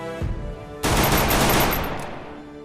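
A short burst of rapid video game gunfire, loud and dense, cuts in after a quieter opening and runs for well over a second before tailing off.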